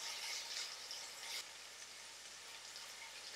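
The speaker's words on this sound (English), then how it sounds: "So you're gonna keep sauteing the onions until they get to be like a translucent color" Onions sauteing in a pot for miso pumpkin soup, a soft, steady hiss of sizzling that drops slightly partway through, quiet and close, with no talk.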